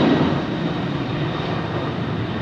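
An airliner arriving on runway 27R at London Heathrow gives a steady, moderately loud jet engine roar that eases slightly after a stronger start, with no voices.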